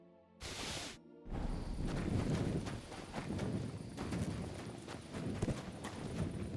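A horse walking in Kingdom Come: Deliverance II, steady clip-clop hoof steps plodding along beneath soft ambient wind, after a brief click at the start.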